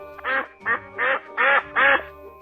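Ducks quacking, five loud, nasal quacks in an uneven run, close and clear with nothing else heard.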